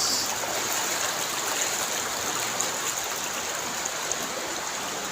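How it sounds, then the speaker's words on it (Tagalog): A clean, clear river flows with a steady, even rush of water, close by and unbroken for the whole stretch, with no talking. "Ang linis ng ilog."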